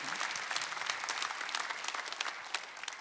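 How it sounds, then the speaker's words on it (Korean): A church congregation at a Sunday worship service breaks into dense, sustained applause, many hands clapping together at moderate distance, with a faint murmur underneath. "박수 한번 주시죠"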